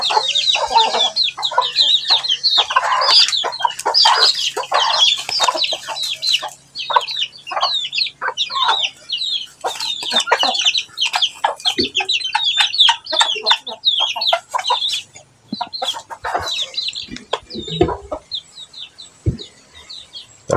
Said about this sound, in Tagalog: Ito mga idol pakain natin sa manok